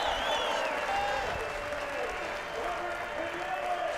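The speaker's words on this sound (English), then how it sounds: "Crowd on their feet." A British MotoGP race crowd cheers and applauds steadily on its feet, a dense wash of clapping and shouting with a commentator talking over it.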